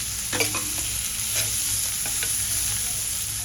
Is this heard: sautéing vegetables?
yes